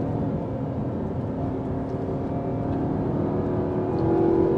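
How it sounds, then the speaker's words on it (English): Audi R8 V8 revving in third gear, a sustained engine drone heard from inside the car that climbs slightly in pitch and loudness near the end, with road roar underneath. "third gear, just trying to stretch them revs."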